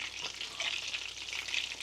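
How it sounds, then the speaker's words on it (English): Pieces of fish fry in a hot pan offshore after a catch, giving a steady close crackling sizzle with bright spitting bursts throughout and no talking. "There's a bit of a sizzle there."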